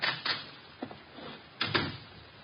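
Door opening and closing indoors in an old detective radio drama, a few short knocks and clicks, a latch and a soft thud spread over a couple of seconds, fairly quiet.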